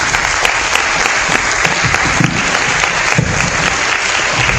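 At a public forum on Palestine, the audience gives the panelists loud, thunderous applause, a thick, continuous wall of clapping and crowd noise that stays strong for the whole stretch.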